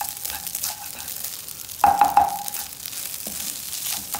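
Indonesian fried rice (nasi goreng) sizzles in a pan as it is stirred and mixed with the rice, with a steady frying hiss and a brief louder scrape and clatter of the utensil midway, close and without talk.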